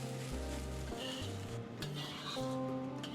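Egg and chopped omelette are stirred through fried rice in a hot pan, giving a steady low sizzle with soft scraping and stirring, close and continuous, with background music underneath.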